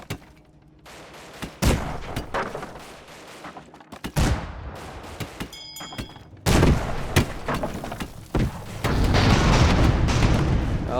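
Cannon fire from warring airships in the strategy game Airships: Conquer the Skies, booming in scattered loud bursts and volleys, with a dense, heavier barrage building toward the end.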